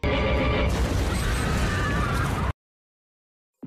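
An explosion tears through a bar in a film scene: a loud, dense blast with roaring debris and rumble for about two and a half seconds, then sudden silence.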